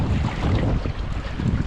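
Fast-moving stream water over a rocky bottom in the Colorado wilderness, a dense, steady rushing and churning close by while someone wades through it.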